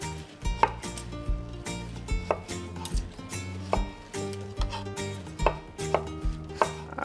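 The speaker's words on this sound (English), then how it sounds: "We'll slice some strawberries." A knife slices strawberries on a cutting board, giving about a dozen sharp, evenly spaced chopping taps close up, over a steady background hum.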